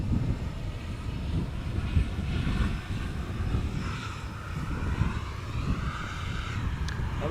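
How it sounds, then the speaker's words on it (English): A Transavia airliner landing at Amsterdam Schiphol gives a moderate, wavering jet rumble from a distance, mixed with wind noise and faint engine whine shifting in pitch. "another Transavia just now landed."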